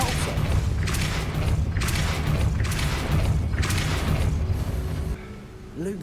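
Depulso spell blasts from Hogwarts Legacy come as a sustained, booming rumble with repeated heavy surges. The sound is loud and dense, then drops off near the end.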